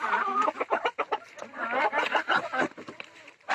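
Chickens cluck and squawk busily close by on a rooftop, a dense run of overlapping calls with short pauses.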